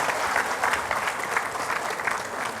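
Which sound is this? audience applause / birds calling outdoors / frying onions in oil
audience applause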